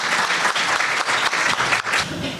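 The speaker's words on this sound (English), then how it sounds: "join me in giving a round of applause for this illustrative panel" Audience applauding a panel at an early childhood education event, dense continuous clapping close by and fairly loud, with no voices over it.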